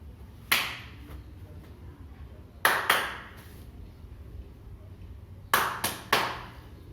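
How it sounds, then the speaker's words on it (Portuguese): Sharp hand claps used as reaction-time cues in an exercise session for an elderly person: one clap, then a pair, then a group of three, each crisp and close, separated by quiet pauses. "Nós vamos proporcionar 3 estímulos, 1 palma, 2 palmas e 3 palmas."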